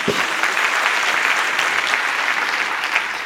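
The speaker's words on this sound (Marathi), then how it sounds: "टाळ्या वाजून प्रभूला धन्यवाद देऊया" A church congregation claps steadily and densely for a few seconds, loud and sustained applause with no pauses.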